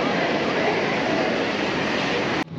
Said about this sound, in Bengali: আমাদের দেশে যাওয়ার জন্য ট্রেন এসে পড়েছে।